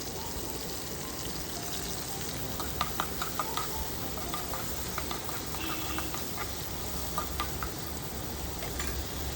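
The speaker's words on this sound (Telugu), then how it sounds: "ఆయిల్ వేసుకొని ప్యాన్లో కొంచెం మెంతి కూర, ఒక పచ్చిమిర్చి, ఆనియన్, కరివేపాకు అవన్నీ వేసి వేయించాలి" Fenugreek leaves, green chili, onion and curry leaves fry in oil in a pan with a soft, steady sizzle, and faint ticks and pops scattered through it.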